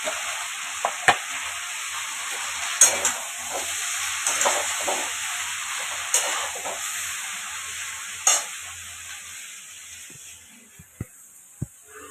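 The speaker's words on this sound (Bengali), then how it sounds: "আর এই শাকটা আমি ভাজছি" Leafy greens frying in a pan give a steady, close hiss of sizzling oil with occasional soft ticks and stirring taps, continuous and moderately loud before easing toward the end.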